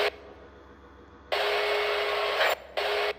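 A fire truck ladder swivels in the EmergeNYC firefighting video game, a flat mechanical whirring hum that starts abruptly, runs steadily for about a second, cuts out briefly, then resumes, loud and alone.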